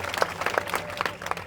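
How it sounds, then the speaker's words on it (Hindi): A crowd applauds to welcome a politician at a public gathering, with a dense patter of clapping and scattered louder claps, heard somewhat faint and distant. "जोरदार तालियों से स्वागत कीजिए।"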